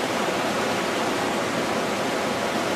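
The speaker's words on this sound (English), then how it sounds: "Then I'll back swill the water like this" Water swirling and sloshing in a gold pan during panning beside a sluice, a steady, dense hiss of moving water heard close up and with no talking.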